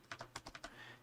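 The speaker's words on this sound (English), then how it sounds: "I will type it out in the chat." Typing on a computer keyboard: a quick run of six distinct keystrokes, close and fairly quiet, with no talking.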